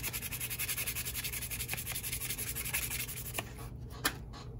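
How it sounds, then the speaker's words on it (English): Fine grit sandpaper rubbing back and forth over the small metal crosshead guides of an HO scale model steam engine kit, a steady close scraping rhythm that stops near the end, followed by a couple of faint taps. "fine grit sandpaper is about the harshest thing that you ever want to use on a part like this"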